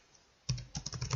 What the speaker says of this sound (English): Let's type in Autodesk